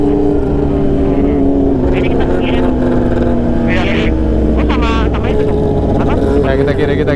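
A Kawasaki ZX25R motorcycle engine drones steadily and loudly on the road, its high-revving tone rising and falling under wind noise, while riders talk over it.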